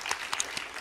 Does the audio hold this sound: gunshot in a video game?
no